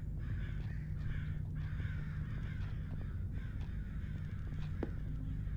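Crows caw repeatedly in the horror summer camp video game Summer of '58, harsh calls rising over a steady low ambient drone, moderately distant, with no talking.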